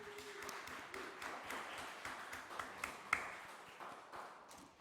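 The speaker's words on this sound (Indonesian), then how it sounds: "Tepuk tangan dulu buat Mas Eki." A small crowd at a graduation celebration claps in scattered, faint applause, a soft patter of hands running on for several seconds with a few louder claps standing out.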